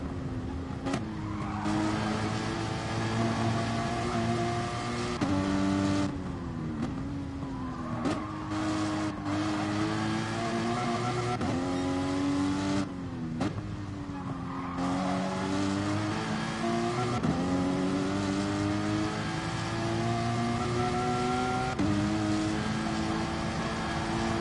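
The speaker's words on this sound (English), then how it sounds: "Quite reliable, the club sport, the Porsche club sport. Group 4 car, very good." A Porsche Cayman Clubsport Group 4 race car in GT Sport howls steadily through upshifts and downshifts, engine pitch rising and dropping repeatedly with brief gear-change dips, loud and continuous.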